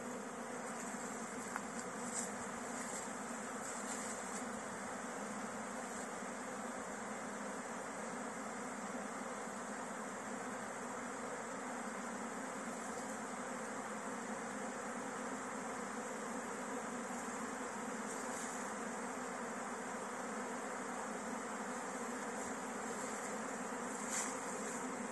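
A swarm of honey bees that has just left its hive and settled in a hedge gives a dense, steady buzzing drone, close and constant throughout, with no talk over it.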